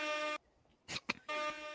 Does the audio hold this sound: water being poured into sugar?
no